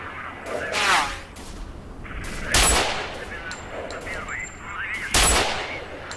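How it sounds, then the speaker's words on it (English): Enemies fire at the player in the video game S.T.A.L.K.E.R. Call of Pripyat. Three sharp, loud gunshot bursts ring out at uneven intervals over a quieter background of in-game ambience. "Are they shooting me?"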